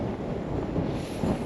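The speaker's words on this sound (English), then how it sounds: "It's still windy, as it has been for the last month or two." Steady wind blowing across open ground on a Tasmanian dairy farm, a continuous broadband rush with gusty swells throughout, fairly close and loud, with no one speaking.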